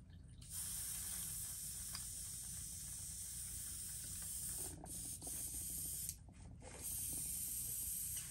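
A new side-feed Micron airbrush spraying paint onto a flat-sided Plopper fishing lure, giving a steady, close, airy hiss that runs almost continuously with a couple of brief breaks.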